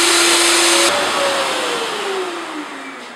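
Festool OF1400 router with a V-grooving bit, loud high whine at full speed that cuts off abruptly and winds down with a falling tone over a few seconds.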